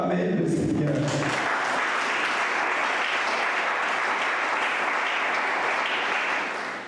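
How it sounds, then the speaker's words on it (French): A church congregation bursts into loud, sustained applause praising the Lord, the clapping steady for several seconds after a brief spoken line, then tapering slightly at the end. "Est-ce qu'on peut acclamer le Seigneur?"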